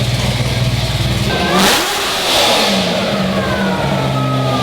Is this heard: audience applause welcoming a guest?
no